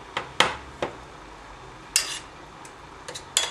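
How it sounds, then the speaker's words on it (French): A utensil scrapes and knocks against a pan while a fried jjajangmyeon sauce mixture is stirred and crushed, giving sharp separate clinks and scrapes with quiet gaps between them. "il faut mélanger en écrasant bien, histoire que ça fasse une préparation assez homogène"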